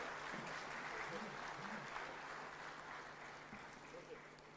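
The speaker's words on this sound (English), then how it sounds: "a bigger round of applause to our distinguished presidents" Audience at an African heads-of-state summit applauding its presidents, a faint, steady patter of many hands clapping, heard at a distance and gradually tapering off.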